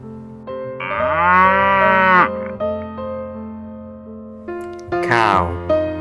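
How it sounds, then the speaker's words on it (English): A cartoon cow gives a long, loud moo near the start, with a second shorter moo near the end, set against light background music on a children's farm-animal cartoon. "Cow."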